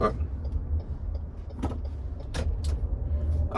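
Inside a Lexus NX cruising city streets, a low steady road and engine rumble fills the cabin, broken by a few faint clicks and rustles.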